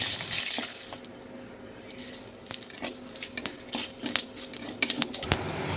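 Bay leaves and two or three dried red chillies stirred in hot oil, with spoon clinks and scrapes against the pan over a light sizzle, growing busier toward the end, and no voices.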